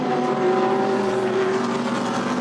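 GT race cars, among them Audis, Ferraris, BMWs, Mercedes and Bentleys, pour onto the Nürburgring circuit during endurance-series qualifying, a dense, steady blend of engine drone from several cars heard at a middle distance.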